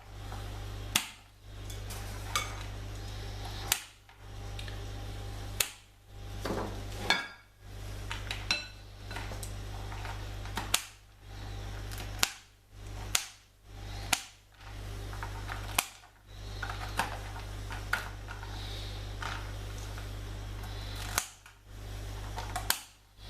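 Nuts roughly chopped with a good knife on a board for brownies: sharp, irregular knock-and-crunch strikes repeating close by every second or two over a low steady hum.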